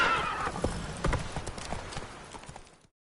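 Geralt's horse Roach in The Witcher 3 gallops with rapid clip-clop hoofbeats and lets out a whinnying neigh at the start, all close and fairly loud before cutting off.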